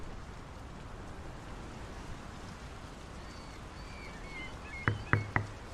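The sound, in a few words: rain falling in the video game Draugen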